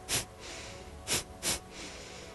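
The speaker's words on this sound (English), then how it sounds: "You can do a double pump Kapalabhati where you breathe out twice." Kapalabhati yoga breathing: three sharp, forceful nasal exhales, one alone and then a quick pair, each a short loud hiss from close by over soft background air.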